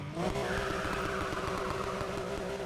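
Rally car engine in a street racing game held at a high, steady drone with wheel spin, loud and continuous from start to end.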